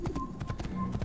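Horse hooves clop in Assassin's Creed in a quick galloping rhythm, close and steady, with a soft thud on each footfall and a faint tonal hum behind.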